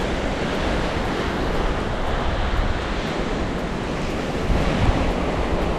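Surf breaking steadily on a beach beside a hiking track on Stewart Island's Rakiura Track near Port William Hut, a continuous broad wash of waves with some wind noise, a slightly louder surge near the end, no voices.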